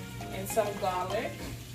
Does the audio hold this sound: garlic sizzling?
yes